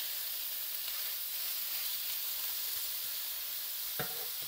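Pork belly browns in hot oil in a pan, giving a steady, close sizzle throughout, with a single sharp click near the end.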